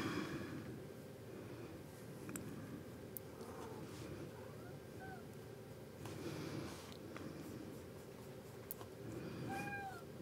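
A pet cat in the room lets out a few faint, rising meows spaced several seconds apart over a steady indoor hum.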